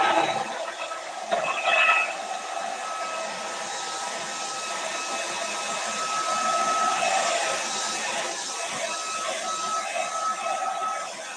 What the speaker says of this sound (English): I am going to need to hit this with the hairdryer just a little bit because I don't want to smear it.